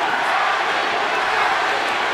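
Boxing arena crowd chanting for Manny Pacquiao during the final seconds of his fight with Tim Bradley, a steady, dense roar of voices filling the hall without a break.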